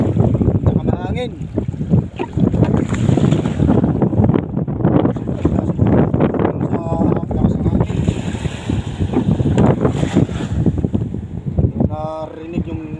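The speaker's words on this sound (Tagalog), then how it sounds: "Narinig yung umuugong hangin yan lakas ng" Strong wind roars across open water where fishing is under way, buffeting the microphone in loud continuous gusts while someone talks over it.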